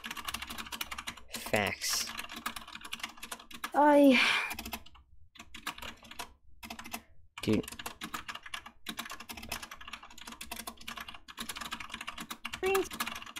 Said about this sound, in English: typing noises here.